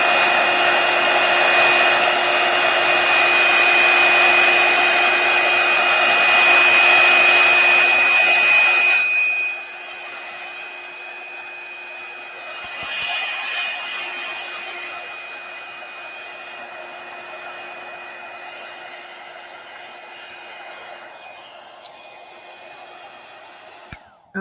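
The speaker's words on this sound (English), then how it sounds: "that's just a cool setting hair dryer" A hair dryer on its cool setting whirs with a steady, close airflow hiss and a whine, then drops to a quieter, softer blowing for the rest.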